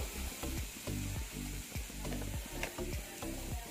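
Tomatoes and potatoes frying in a wok over a high gas flame, a steady loud sizzle with repeated scraping stirs in a regular rhythm, no voices.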